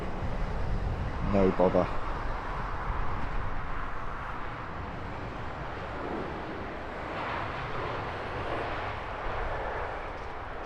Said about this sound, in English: Few minor corrections for the Aer Lingus just before touchdown.